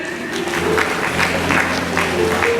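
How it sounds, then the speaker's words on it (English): Applause from a university conference audience, a steady dense patter of many hands clapping at a moderate level with a low hum underneath. "And also, I think the Emtan 2019 deserves a very loud applause."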